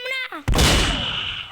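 A single loud gunshot fired in a first-person video game, striking sharply after a brief voice and ringing out in a long, noisy decay.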